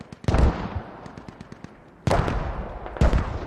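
Mortar fire in a large-scale battle game booms in sharp, loud blasts, with a heavy impact early on and two more strong bursts later, scattered crackling shots and rumble between them, no talk.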